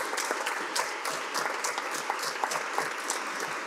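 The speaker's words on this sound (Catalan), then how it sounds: "Guardàvem l'aplaudiment pel final, però és ben merescut." Steady applause from those attending a municipal council plenary session, dense rapid clapping held at an even, moderate level throughout.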